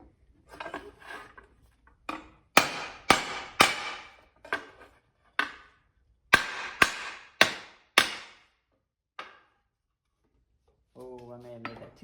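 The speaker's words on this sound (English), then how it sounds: "I'm going to rebeat the rivets so that they are a lot stiffer" Sharp hammer blows rebeating rivets on a 1960s wooden step ladder with an oak top, about a dozen loud metallic-wooden strikes in uneven bursts with pauses, some low talk beforehand and a brief tonal sound at the end.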